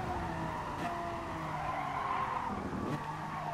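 Tires skid and squeal on a mid-engined race car cornering in Gran Turismo Sport, with a sustained screech over the steady engine drone and no talk.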